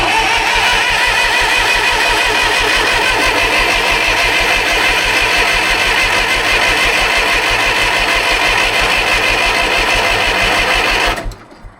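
1970s bulldozer engine being cranked over and catching, a loud continuous rapid mechanical chugging and rattle that runs steadily for about eleven seconds, then cuts off abruptly.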